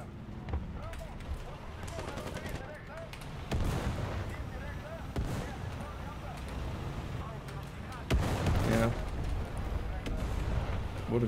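Tank cannon fire booms in the tank-battle game War Thunder, several heavy shots and impacts over a rumbling engine drone, with players talking over it.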